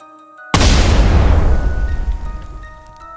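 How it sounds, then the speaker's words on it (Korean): A sudden, deep, bomb-like boom after a half-second of quiet, loud and close, rolling off into a long rumbling decay over the next two and a half seconds. "폭탄이 터지는 것처럼 쾅 하는 엄청난 소리와 함께 과일 트럭이 심하게 흔들렸다"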